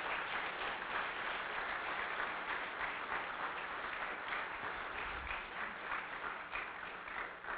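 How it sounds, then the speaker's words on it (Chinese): Sustained applause from an audience at a hall dedication ceremony, a dense steady patter of many hands clapping that fills the whole stretch at even loudness. "好，拍拍手"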